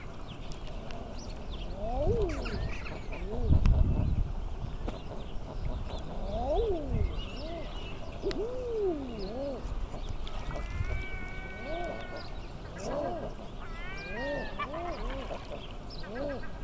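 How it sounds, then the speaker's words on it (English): Eider ducks call across open water in a bright outdoor setting, a series of soft, crooning, rising-and-falling coos repeating near and far, with a low rumble of wind or water underneath. "it's the sound these ducks make that is just absolutely wonderful"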